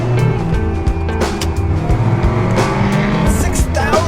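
A Daihatsu Rocky small 4x4 engine revs hard toward 6,000 RPM, a loud, steady strained drone close by with a few sharp transient bumps, no talking over it.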